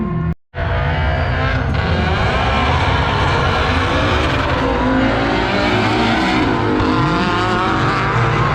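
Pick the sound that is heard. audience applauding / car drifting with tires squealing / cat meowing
car drifting with tires squealing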